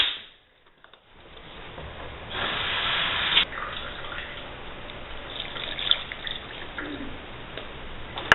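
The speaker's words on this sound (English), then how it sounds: "She's going to add another cup of water" Water poured from a cup into homemade bread dough in a kitchen, a steady splashing pour that starts after a short quiet moment and runs for several seconds, with a few small clinks near the end.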